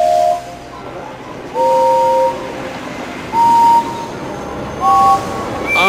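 Several short cartoon steam locomotive whistle blasts from a children's railway show, sounding one after another with pauses, each a bright toot, the last rising, over a soft background hum.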